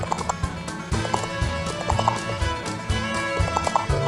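A galloping horse beats out a quick, rhythmic clip-clop of hooves with an occasional whinny, the hoofbeats close and steady throughout.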